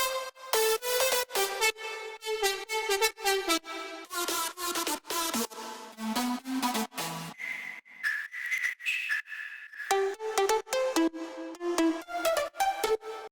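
Layered synth lead and pluck sounds played solo for a future house track, bright bouncing melodic notes in a fast rhythmic pattern with a sustained lead passage in the middle, loud and close with no voices.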